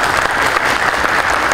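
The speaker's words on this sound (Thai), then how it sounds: "ขอคนพี่น้องชาวสิรินธรปรบมือให้พี่น้องสื่อมวลชนหน่อยครับ" A crowd of local residents at a community gathering claps loudly and continuously for the assembled press, a dense, even wash of applause close by.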